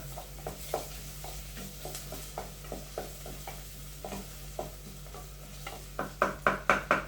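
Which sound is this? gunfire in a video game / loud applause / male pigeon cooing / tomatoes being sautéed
tomatoes being sautéed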